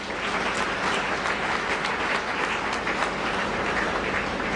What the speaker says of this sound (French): Si les chrétiens sont là, nous acclamons pour le Seigneur.